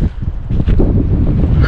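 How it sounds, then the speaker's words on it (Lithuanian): Wind on a humid, windy day buffets the microphone in a close, loud, low rumble with uneven gusts over a short stretch. "Drėgna vėjuota."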